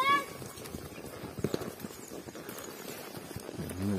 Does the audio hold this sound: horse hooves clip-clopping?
yes